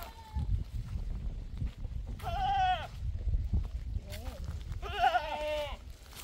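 Goats on a village farm bleat twice in clear, wavering calls, one near the middle and another near the end, over a steady outdoor background with faint footsteps and other low sounds.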